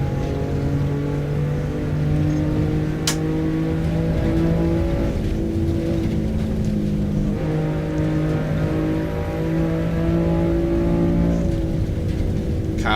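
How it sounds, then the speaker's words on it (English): Race cars in the iRacing sim during a Saturday endurance race, engines droning loud and steady with layered tonal whine from several cars, pitch shifting slightly as they run together. "Cars sound fantastic."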